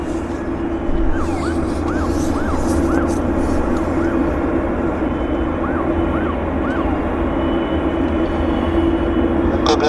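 A large aircraft drones steadily near Vancouver's YVR airport, a constant low engine rumble with a high whining tone throughout, while faint chirping birds are audible over the roar.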